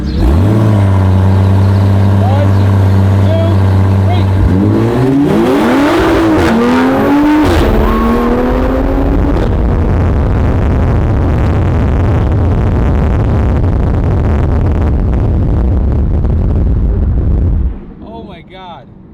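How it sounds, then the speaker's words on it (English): A Toyota MK5 Supra tuned with MHD to about 500 horsepower holds revs on launch control, then launches hard with a rising roar through gear shifts, loud and close from inside the car, before the sound drops away at the end; people talk briefly. "With the traction, I'm gonna use the launch control."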